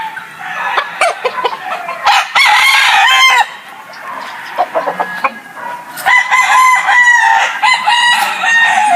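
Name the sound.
gamefowl rooster crowing and chickens clucking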